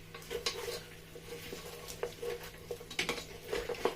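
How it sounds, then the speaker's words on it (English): A spoon stirs tomato sauce into jollof rice in a pot, with soft scraping and clinking against the metal in an irregular rhythm, quiet and close. "So I'm just going to mix everything together."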